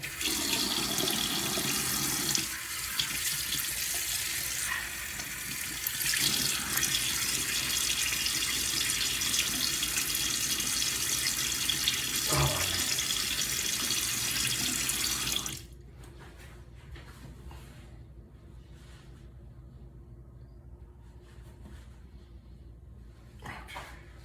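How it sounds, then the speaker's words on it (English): A bathroom tap runs strongly and steadily at a sink while a man wets his face before a shave, a full, close hiss of water that cuts off abruptly near the end, leaving faint room noise and small splashes. "Let me get my face wet."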